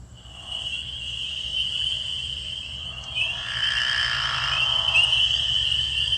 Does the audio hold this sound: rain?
no